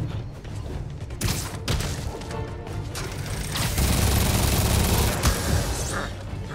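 Video game shooter gunfire in sustained, dense bursts with thumping impacts, loud and continuous throughout, with no talk over it.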